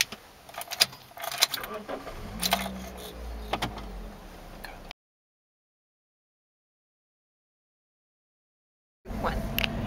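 A manual car is switched off and restarted: keys jangle and click near the ignition, the idle cuts to silence for several seconds, then the engine turns back over and runs.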